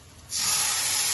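Food drops into about two tablespoons of hot oil in a frying pan, setting off a sudden loud, steady sizzle and crackle that starts after a brief quiet moment and continues unbroken.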